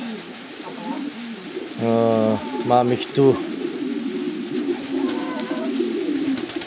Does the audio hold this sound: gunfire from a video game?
no